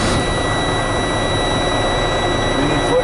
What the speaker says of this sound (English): pull on valves, start your engine.